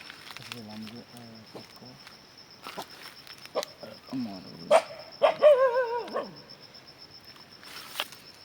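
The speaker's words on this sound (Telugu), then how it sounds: "తోట నిండా కుక్కలండి." Dogs roaming a farm garden give several short barks and whines at close to middle distance, scattered across the stretch amid quiet outdoor background and faint insect noise.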